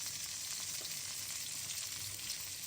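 Fish pieces fry in hot oil in a pan, giving a steady, close hiss and sizzle that stays even throughout, with no talking.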